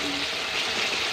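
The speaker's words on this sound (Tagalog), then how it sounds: "Kailangan po gisang gisa siya." Tomatoes sautéing in a pan for sarciadong tilapia, a steady, close sizzle and hiss of frying with faint stirring, continuous through the short stretch.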